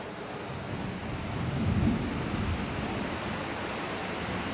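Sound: thunderstorm and rain outside

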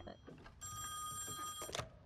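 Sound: telephone ringing in the video game Song of Horror

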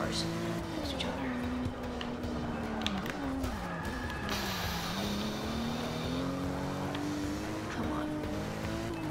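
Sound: BMW M235i car racing in the Forza Motorsport 6 video game

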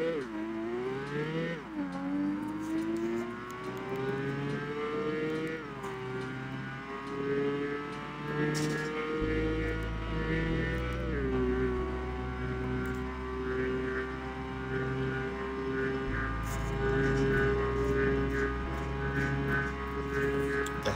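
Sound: Nissan GT-R50 car driving in video game Apex Racer

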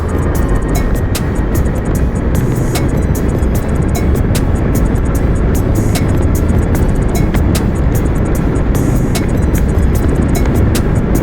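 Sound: VOLTO Cruise 20 electric scooter accelerating in third gear

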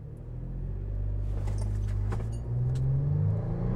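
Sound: 2014 Toyota FJ Cruiser accelerating 0-60, traction control off

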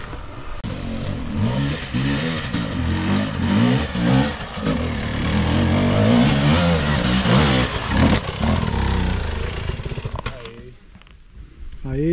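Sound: motorcycle engine revving

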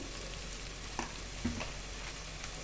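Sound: ginger garlic paste and red chili powder frying

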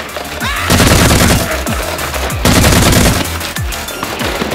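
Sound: Nerf blaster shots fired at a clown

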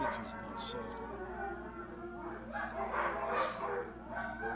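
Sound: neighbor's dogs howling and barking

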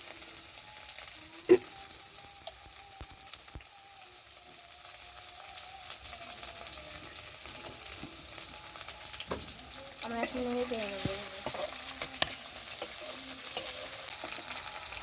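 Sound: stirring and frying in oil

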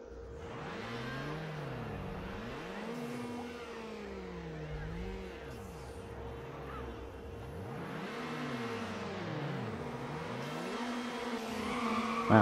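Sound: car engine revving in Need for Speed Underground video game

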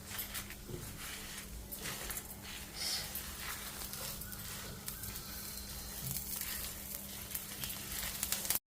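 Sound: dried red chillies and lentils frying in oil

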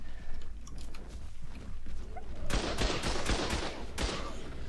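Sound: turret firing in Ark: Survival video game

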